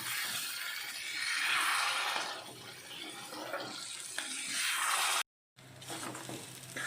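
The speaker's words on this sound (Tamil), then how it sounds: "ஸ்டவ்வை லோ ஃப்ளேம்லேயே வச்சுட்டு நல்லா வதக்கிக்கலாம்." Steady broadband sizzling hiss of ingredients sautéing in a pan over a low flame, continuous and fairly loud with a brief dropout near the end.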